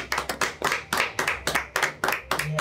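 Hands clap in a steady, fast rhythm of about eight sharp, close, loud claps during a tabletop game of Harakiri, with no talking.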